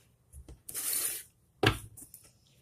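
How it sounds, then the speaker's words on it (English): Two quick bursts of oracle cards being shuffled, a longer riffle followed by a short sharp snap, close by in an otherwise quiet room. "So I'm going to go ahead and get started with the shuffle."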